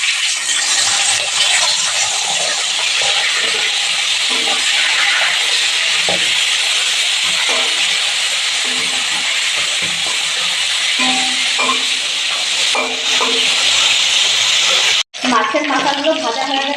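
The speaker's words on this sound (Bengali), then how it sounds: "এবার ইলিশ মাছের মাথাগুলো ভেজে নেব।" Hilsa fish heads rubbed with salt and turmeric fry in hot oil in a wok, giving a steady, loud broadband sizzle and hiss that runs nearly throughout with scattered spits and pops, briefly cut near the end, while a voice talks quietly underneath.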